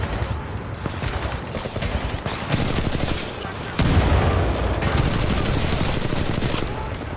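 Automatic gunfire rattles in a video game played in VR on an Oculus Quest 2, with loud, rapid bursts running almost continuously and growing heavier toward the end.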